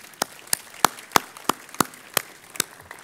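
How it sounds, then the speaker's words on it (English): Sparse applause from an audience at a ribbon cutting ceremony for the Orange County Museum of Art, heard as about nine separate sharp claps spaced across a few seconds, moderately near and alone. "I think that deserves another round of applause"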